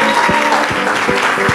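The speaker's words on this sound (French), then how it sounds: "On acclame le Seigneur très fort." A church congregation at a Sunday service claps in a loose rhythm, with distinct claps repeating under a warm murmur of voices.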